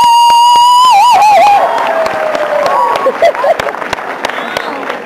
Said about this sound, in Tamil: நல்லா பேசினாங்க அப்படிங்கிறதையும் அப்படிங்கிறவங்க கைத்தட்டினாங்க.